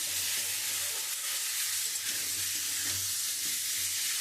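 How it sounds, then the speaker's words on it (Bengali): Spiced potatoes frying in a pan for a rohu fish curry give a steady, loud sizzle and hiss, likely as water is added, with faint stirring and no talk. "আমি মশলাটা দিয়ে আলুটা খুব সুন্দর কষিয়ে নিয়েছি এবার আমি জল দিয়ে দেবো"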